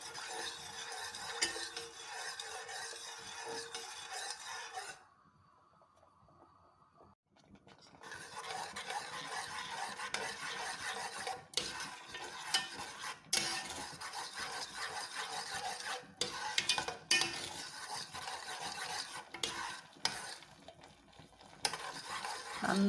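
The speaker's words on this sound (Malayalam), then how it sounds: "തുടരെ ഇളക്കി കുട്ടികൾക്ക് കുറുക്കുണ്ടാക്കുന്ന രീതിയിൽ അതുപോലെ ആകണം." Wheat ice cream mixture being stirred steadily in a pan as it thickens, a continuous scraping and swishing that briefly pauses midway before resuming, with no talk.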